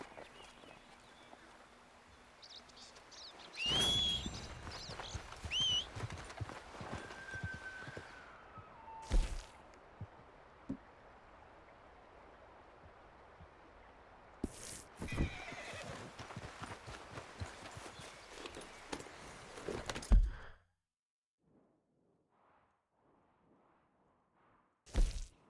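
Hooves clip-clop and pound along while a horse neighs a couple of times amid scattered crashes and whooshes in Red Dead Redemption, then everything drops to near silence.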